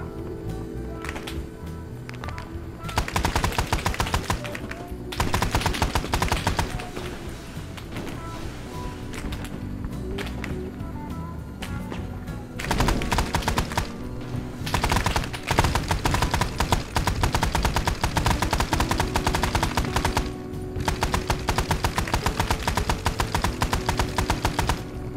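Sustained heavy machine gun fire from a Huey helicopter gunship in the Vietnam-era video game Arma 3 SOG Prairie Fire: long, dense rattling bursts over a constant rotor-like drone, with a few short pauses between volleys.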